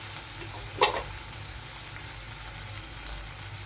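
Tomatoes fry in a pan for chicken biryani, a quiet steady sizzle with one brief scraping stir near the start and no voices.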